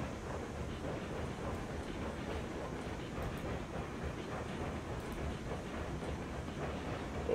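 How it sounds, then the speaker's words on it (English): Steam locomotive in the RailRoads Online video game rumbles and chuffs steadily on a foggy day, a dense, moderately quiet low-pitched drone with faint repeated puffs and no speech. "Keeps them chuffing and puffing."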